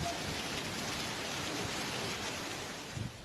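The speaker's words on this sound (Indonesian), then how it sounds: "Dalam rekaman warga terlihat butiran es sebesar kerikil jatuh bersamaan dengan hujan deras di Kecamatan Malawa, Kabupaten Maros." Pebble-sized hail falls with heavy rain in the mountains of Malawa, Maros, a dense continuous hiss that stays steady throughout with a few louder taps near the end.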